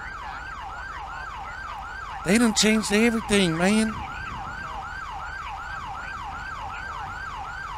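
Wailing ambulance siren in the video game GTA V, a steady repeating rise-and-fall cycle throughout, with a brief burst of talk over it partway through.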